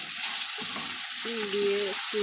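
Raw banana fries with salt, turmeric and chili powder, a steady close sizzle running underneath while someone speaks briefly over it.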